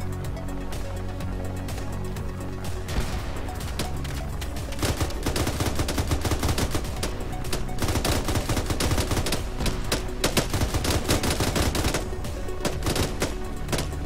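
Sustained heavy gunfire in a military zombie-operation game, dense overlapping automatic bursts and single shots continuing loudly and without pause, with rumbling booms underneath.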